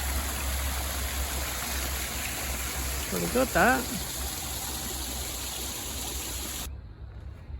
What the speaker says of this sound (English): Like a water feature.